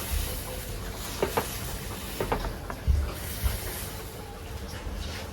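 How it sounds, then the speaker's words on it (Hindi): Steady hissing bubble of water at a rolling boil for pasta, with a few soft knocks and clinks against the pot. "पानी उबल रहा है दोस्तों"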